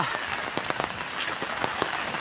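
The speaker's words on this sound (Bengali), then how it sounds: "আমাদের এখানে বৃষ্টি বৃষ্টি পড়ছে দেখো সবাই" Steady rain falling outdoors under an umbrella, a dense close hiss with scattered patter of drops throughout and no voices.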